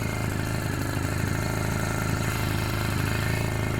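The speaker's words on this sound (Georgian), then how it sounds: "ახლა ცოტას ვახურებ ძრავს." A boat's outboard engine idles as it warms up on a river fishing trip, a steady near, moderately loud putter with a fast, even pulse and no talk over it.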